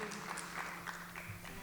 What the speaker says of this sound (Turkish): Sevgili Mürvet Kaymanlı'ya bir alkış istiyorum